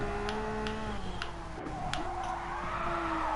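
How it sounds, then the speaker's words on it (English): A Porsche Cup race car engine in the video game GT Sport drones at high revs while tires squeal in long, wavering drifting skids, loud and continuous with sharp clicks scattered through. "the car is still drifting everywhere"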